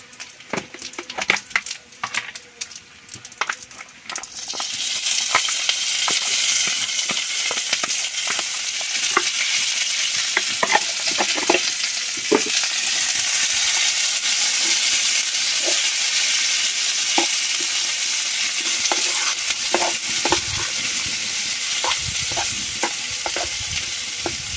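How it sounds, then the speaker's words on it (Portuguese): Greens hit a hot pan with pork cracklings and burst into a loud, steady sizzle after a few seconds of clattering stirs, with intermittent scraping from the utensil throughout. "deixar refogar um pouquinho aqui a verdura"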